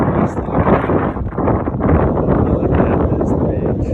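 Strong gusty wind buffets the microphone on a blustery beach at Tarifa, a windsurfing spot, roaring steadily and loudly throughout with no pauses.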